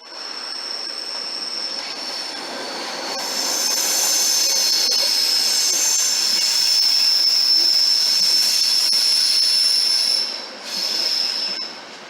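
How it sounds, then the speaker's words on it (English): A Czech Eurocity train at Hamburg Hauptbahnhof, wheels screeching in a loud sustained high squeal as it moves through the station, swelling midway and briefly dipping near the end. "But this is the Eurocity that runs between Prague, Berlin, and Hamburg."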